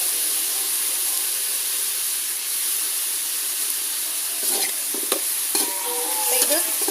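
Dried prawns fry in hot oil in a pan with a constant loud sizzle and hiss, while a few scraping stirs and clinks break in near the end.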